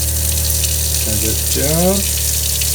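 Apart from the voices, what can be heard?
water running from a tap fed by a van water pump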